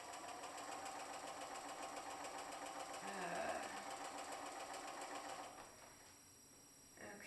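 A sewing machine stitches quilt patches for a Route 66 quilt, running as a steady mechanical hum with rhythmic needle clatter for about five and a half seconds before dropping away, close and moderately loud.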